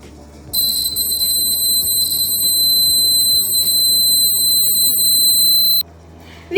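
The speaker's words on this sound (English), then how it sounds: "Now I am going to show the working principle of my earthquake alarm." A homemade earthquake alarm sounds a loud, continuous high-pitched electronic buzz for about five seconds, then stops abruptly, with faint room noise and a low hum underneath.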